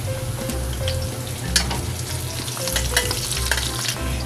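Ginger, garlic and onion sizzle in a hot pan while being stirred with a utensil, a continuous frying hiss broken by scraping and clinking, close up with no talking.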